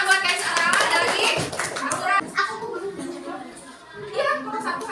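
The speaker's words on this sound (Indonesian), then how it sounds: "tepuk tangan buat Kaisara" Schoolchildren in a classroom clap briefly for a classmate, a short scattered patter of small hands mixed with children's voices and a teacher speaking.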